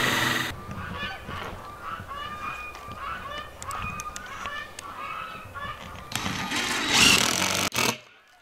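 Geese honk repeatedly in a loose, clamoring series from moderate distance outdoors, with a louder burst of noise near the end.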